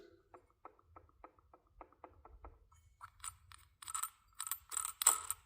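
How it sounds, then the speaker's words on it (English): A loose pulley with a shot bearing on a 1997 Ferrari F355 engine is turned by hand, giving faint, close, evenly spaced ratcheting clicks, then louder metallic rattling and clinking near the end, with no talking. "this pulley is loose."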